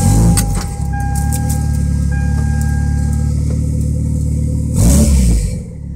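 A Toyota Celica with a swapped 3SGTE engine runs with no exhaust fitted, a loud steady idle rumble throughout, with a brief sharp rise near the end before settling.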